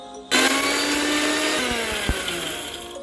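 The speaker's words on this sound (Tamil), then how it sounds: "அது எல்லாத்தையும் வந்து மிக்ஸி ஜாரில் போட்டு, குட்டி ஜாரில் போட்டு மிக்ஸ் பண்ணி எடுத்துடலாம்" A kitchen mixer grinder with a small jar grinds roasted peanuts and masala, starting abruptly into a loud, steady high-pitched whir that holds for about three seconds and then cuts off.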